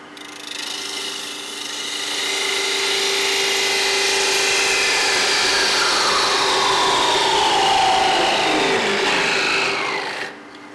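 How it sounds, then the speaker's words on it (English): A wood lathe parts off an overlong wooden cutoff held in 2-inch chuck jaws, while turning a two-piece wooden yo-yo: a steady, close scraping and rasping cut with a rising whine, continuous for about ten seconds before cutting out. "And I'm going to part that off because it's too long."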